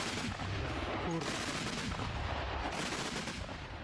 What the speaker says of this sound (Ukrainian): Ну, Трошки стріляють і трошки літають. Ворожі, то зараз працює артилерія.